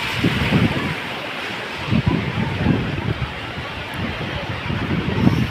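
Sea waves roll in at the Gopnath shore during an idol immersion gathering, a loud windy surf wash with recurring surges every second or so and wind buffeting the microphone.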